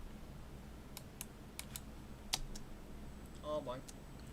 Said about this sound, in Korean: 이 부분을 이제 델리트 키를 눌러서 삭제를 합니다.